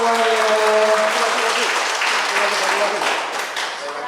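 An audience bursts into applause at a final audition for a regional tourism ambassador pageant in Kendal, a dense, loud wash of clapping that holds steady and then gradually tapers, with an indistinct voice briefly heard beneath.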